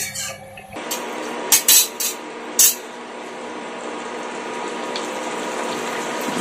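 Water at a steady rolling boil in a pot for a thin hilsa and eggplant fish curry, a constant bubbling hiss broken by a few sharp clanks early on.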